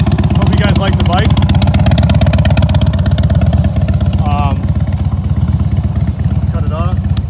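A 2010 Harley Davidson Dyna Wide Glide special edition idles steadily up close, its loud, throbbing V-twin rumble continuous throughout, with brief higher chirps over it.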